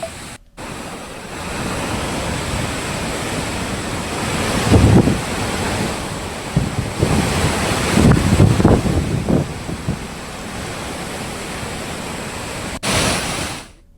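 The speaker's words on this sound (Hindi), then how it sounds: "नाले का तेज बहाव सड़क तक पहुंच गया है।" A fast stream of rainwater from a swollen drain pours across a mountain road in Uttarakhand, a loud, steady rushing roar with some rougher surges, no voices.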